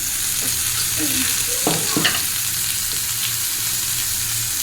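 Tomato and salt frying in a pan for a potato and pumpkin dish, a steady broadband sizzle with a few soft stirring scrapes and clinks, close and continuous with no talking.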